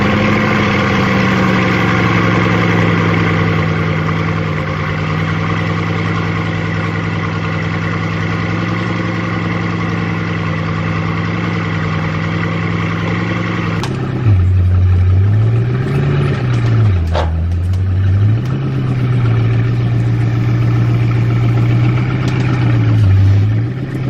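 A Volkswagen sixteen-cylinder quad-turbo car engine idles with a deep steady drone, then revs up and down in swells partway through, close and loud.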